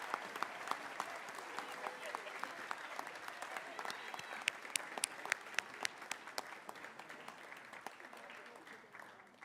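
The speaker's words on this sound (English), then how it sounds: "Let's give a round of applause" A room full of people applauds at a high school awards ceremony, steady overlapping clapping that carries on for several seconds and slowly fades.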